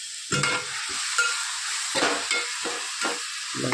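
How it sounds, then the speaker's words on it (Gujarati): Garlic and green chillies sauté over a low flame in a pan, a soft continuous sizzle punctuated by repeated close scraping stirs of a spatula, no one speaking. "લસણ અને લીલા મરચાંને બધું આપણે સોતે કરી દઈએ."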